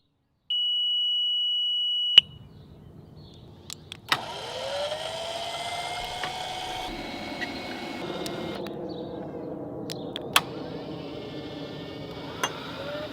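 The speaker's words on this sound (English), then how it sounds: "it should give you a long beep like this." A Mighty Mule gate opener sounds one long, steady electronic beep while pairing a remote. The tone holds for under two seconds and is followed by faint engine rumble, scattered clicks and outdoor background noise.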